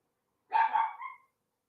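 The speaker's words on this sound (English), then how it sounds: "there's a dog barking probably" A dog barks outside through an open window, one short burst of two or three quick yelping barks, fairly clear and close, then silence.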